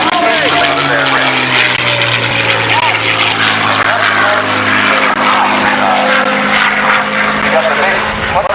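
A P-51 Mustang propeller plane roars through aerobatics at an airshow, its engine loud and close with a sustained droning pitch that shifts slightly as it climbs over the top, mixed with wind noise.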